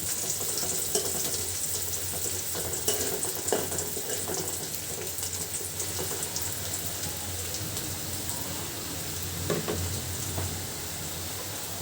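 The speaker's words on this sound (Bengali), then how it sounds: "পেঁয়াজটা আর একটু ভাজি করি, একটু লাল লাল করে ভাজি করলে ভুনাটা খেতে ভালো লাগবে।" Onions fry in a pan until reddish for an egg bhuna, giving a constant, rain-like crackling hiss at moderate level with occasional faint stirring bumps and no voices.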